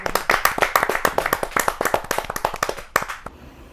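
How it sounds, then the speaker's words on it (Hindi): Audience at a Hindi kavi sammelan clapping to welcome a poet onto the stage: a brisk run of distinct, close claps from a modest crowd, loud and fairly rhythmic, stopping abruptly near the end. "जोरदार तालियों से स्वागत कीजिए वेद स्मृति जी"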